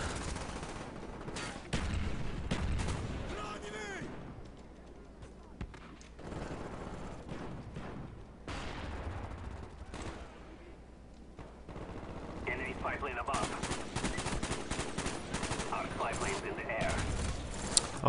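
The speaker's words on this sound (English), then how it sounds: "Nice shooting, Postman Liver." Gunfire in the PC game Black Ops, sustained automatic bursts and heavy shots rolling almost continuously with brief lulls, loud and dense, while a player's voice comments over the action.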